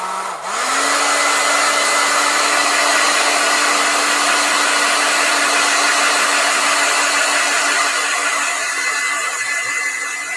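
A handheld hair dryer blows steadily and loudly for about ten seconds, drying paint on farmhouse-style craft pumpkins, with a constant whooshing roar and a thin whine that starts up and holds throughout.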